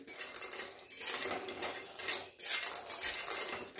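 Homemade lentil bori dry-roasting in a kadai with no oil, a utensil scraping and clinking against the metal in steady, close bursts with brief pauses and no talking.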